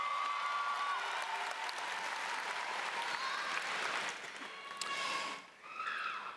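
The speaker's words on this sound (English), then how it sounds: "give them a round of applause, please." A large crowd at a high school graduation applauds the graduating class in a dense, sustained wash of clapping that dips briefly near the end before swelling again.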